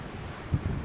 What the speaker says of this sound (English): And it is so windy today too.